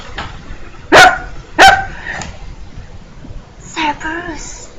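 Cerberus, the three-headed guard dog of Hades, barks twice, loud and sharp in quick succession, then lets out a higher whining yelp after a pause, over a faint low background.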